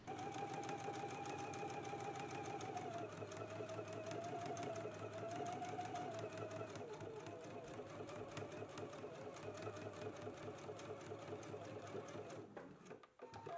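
A sewing machine runs a steady, continuous stay stitch 1/8 inch in along the curved edges of McCall's M8480 pattern pieces, whirring close and even before stopping near the end.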